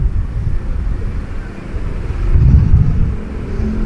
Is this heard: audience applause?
no